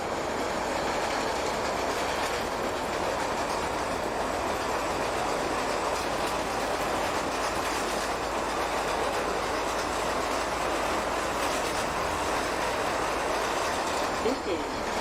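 An NYC Subway R160 train on the J line in the OpenBVE simulator rolls along with steady rail rumble and clickety-clack, a continuous loud wash of wheel noise throughout.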